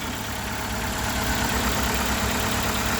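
An engine idling steadily after a troublesome startup, a continuous close rumble with an even low-pitched drone and no variation in level, no voices over it.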